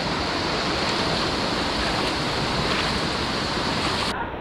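Cold water of the Sta. Lucia River in Dolores, Quezon rushes and flows in a continuous, loud, close broadband roar with no talking, cutting off abruptly at the end.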